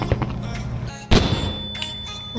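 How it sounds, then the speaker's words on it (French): A stun grenade goes off in a Minecraft mod, one sudden loud burst mid-clip standing out from a busy background of smaller game thuds and clicks. "Et des stun grenades."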